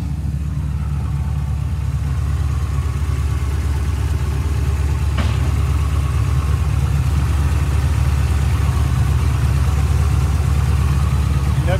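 A Jeep with all-wheel drive and an unused nitrous setup runs at a steady, loud idle, its low engine rumble continuous and close throughout.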